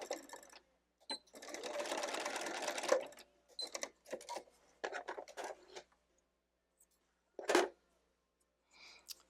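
A sewing machine back stitching the seam of a burrito pillow case, running in quick bursts of rapid stitching separated by pauses, with small handling clicks and rustles between runs.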